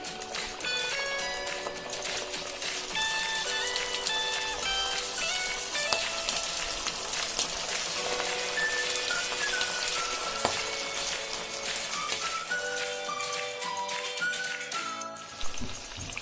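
Potato smileys fry in hot oil in a kadai, a dense, continuous crackling sizzle like rain on a surface, steady and close for the whole stretch, with faint tonal background music and no speech.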